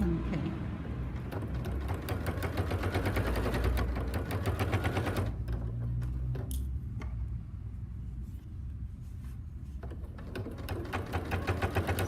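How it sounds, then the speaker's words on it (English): A sewing machine stitches close to the edge of shower proof fabric with a clunky, rapid mechanical chatter that runs steadily, breaks off briefly, then resumes. "this is a question now of stitching close to the edge. And it sounds quite clunky."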